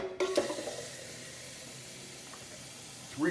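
Water is poured into a simmering lamb ragu sauce, a short splash that settles into a steady soft hiss and sizzle, close by with no talk.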